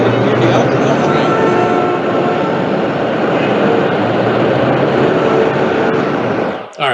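Elevated city train passing, a loud sustained rumbling roar of wheels and cars on the track that holds steady and then cuts off abruptly at the end.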